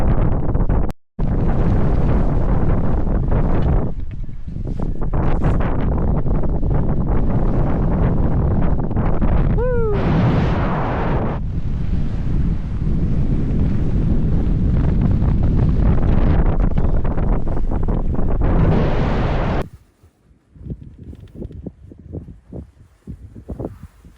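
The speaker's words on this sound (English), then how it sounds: "It's a bit windy, not gonna lie." Heavy, roaring wind buffets the microphone almost nonstop on the summit of Scafell Pike in England's Lake District, with a brief cutout near the start and a sudden drop to quieter gusts near the end.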